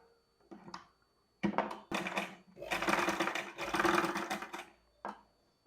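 Sewing machine stitching piping around a round neckline, heard as several short bursts of motor whir and needle clatter that start and stop, the longest running a few seconds near the microphone.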